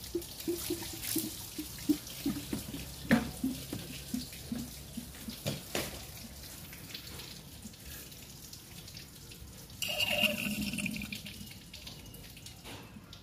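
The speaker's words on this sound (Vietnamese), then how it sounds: "Rồi nước nó đang rút xuống cạn bình." Coolant water draining out of the radiator of a Matiz Spark car with the engine switched off, a close splashing and trickling flow with irregular drips, swelling into a louder gush near the end.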